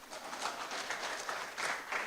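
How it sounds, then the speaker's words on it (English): Audience clapping for a poet at an inaugural lecture, a steady wash of hand claps that swells and dips in small surges over about two seconds, moderately distant with no talk over it. "Clap for the poet."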